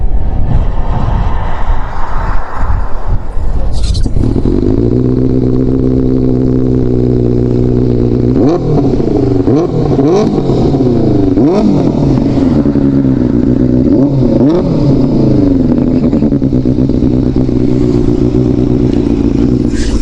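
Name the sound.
Benelli TNT 600i inline-four engine revving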